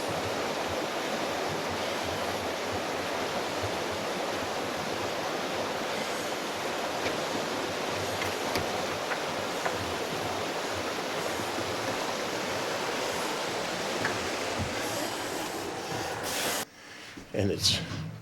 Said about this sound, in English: And the creek is right outside.